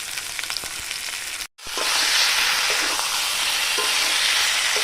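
Spice paste fries in a pan during kosha, a steady close sizzle with faint scraping, briefly cutting to silence partway through, then returning louder and denser.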